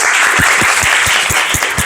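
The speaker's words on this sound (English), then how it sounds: "Applause to Kenzie." Classmates give a short round of applause for a student named Kenzie, brisk and fairly loud, a steady patter of hand claps in a classroom.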